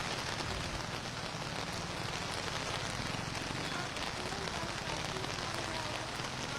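A downpour of heavy rain falls across Kochi city, an unbroken, quiet wash of drops hitting streets and roofs.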